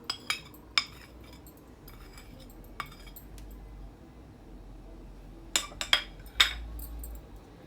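A utensil clinks against a dish while green chilies are tossed with chaat masala, turmeric and salt, giving scattered sharp taps and scrapes, several clustered near the end, over a quiet room.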